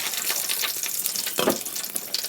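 Cumin seeds and green chillies hit hot oil in a pan, giving a brief burst of hissing sizzle that flares up midway and then settles.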